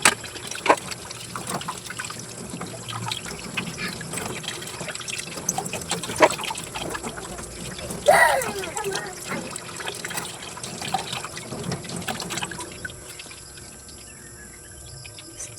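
Tap water runs steadily while okra and sweet potato leaves are washed, a continuous trickle and splash with occasional louder clatters, then fades to a quieter flow near the end.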